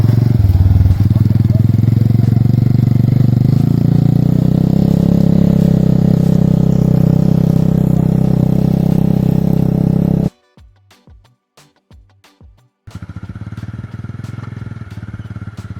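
A motorcycle engine revs loudly for about ten seconds while a learner rider in Jamaica eases out the clutch, then cuts to near silence broken by a few brief clicks before the engine idles again.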